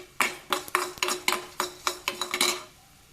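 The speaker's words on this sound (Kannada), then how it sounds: "ಸಾಸಿವೆ ಕಾಳು ಹಾಕ್ತೀನಿ." Mustard seeds dropped into a cooking pan for a peanut rasam, heard as a rapid series of sharp clinks and taps against the metal, about a dozen close, distinct hits over three seconds with no talking.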